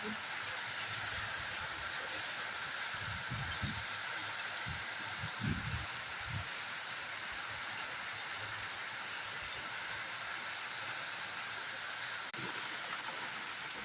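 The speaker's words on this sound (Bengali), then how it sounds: "প্রচণ্ড বৃষ্টি হচ্ছে, প্রচণ্ড বৃষ্টি হচ্ছে।" Heavy monsoon rain falls in a steady, dense wash of hiss that does not let up, as heard from a balcony, with a few faint low thumps early on.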